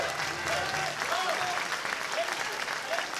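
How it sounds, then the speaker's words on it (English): Audience clapping at a choir performance in a temple in Long Beach, steady, moderately loud applause from a crowd, with a few faint whistles or cheers scattered through it. "can you guys make one more big round of applause for our accompanist, Mr. Lawrence Jones, on the violin"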